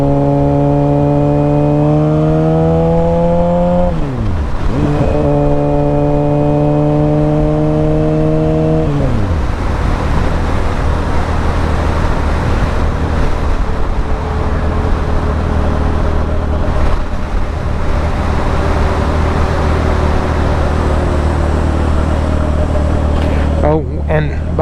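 A 2006 Suzuki GSX-R 750 motorcycle rides along, its engine note rising through the gears with shifts in the opening seconds, then settling into a steady loud drone under wind noise, with speech throughout.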